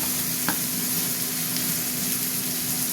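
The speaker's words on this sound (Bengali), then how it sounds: "এবার মশলাটা কষবো।" Ginger-garlic paste with chili, turmeric and cumin powders fries in a pan. A loud, continuous sizzle sounds close up, with a faint steady hum underneath and a couple of brief stirring clinks.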